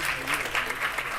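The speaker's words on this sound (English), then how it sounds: "Round of applause" Audience applause at a Cannes film press conference, a steady wash of clapping lasting about a second, with a voice faintly audible underneath.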